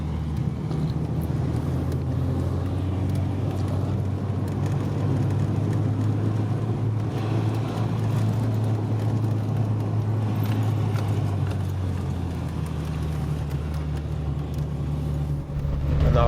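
A Fiat Punto HGT drives with a steady, loud engine drone heard from inside the car, and the pitch drops near the end as a gear change comes through.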